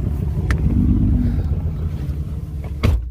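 A truck engine that sounds faulty, a close, loud low rumble with a rough, uneven idle and a couple of sharp knocks or clanks.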